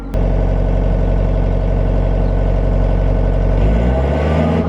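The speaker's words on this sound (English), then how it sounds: "did you hear the engine rev?" An air compressor engine runs at a steady, loud drone during dustless blasting, then briefly revs up near the end with a rising pitch before settling.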